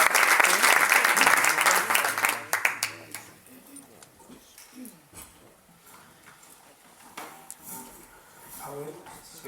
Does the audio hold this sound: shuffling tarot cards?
no